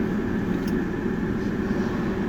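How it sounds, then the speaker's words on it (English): A cement mixer truck rumbles by nearby, a broad, steady low roar of engine and road noise with no voices. "No, that was a cement mixer."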